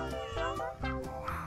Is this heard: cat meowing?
yes